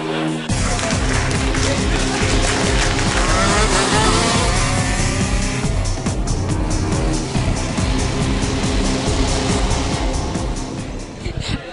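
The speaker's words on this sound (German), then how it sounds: "Und da sind wir an einer Manifestation beim Kartingskurs." Go-karts race around a karting track at a club event, engines droning and buzzing continuously with rising and falling pitch as karts pass, loud and busy with crowd noise and voices in the background.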